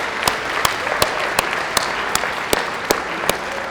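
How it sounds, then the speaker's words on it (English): Audience applause at the Grey Cup Festival breakfast event in Hamilton, honouring a steel company sponsor: a steady wash of many hands clapping with a few sharper, louder claps standing out at regular intervals. "Can we get a round of applause for Stelco,"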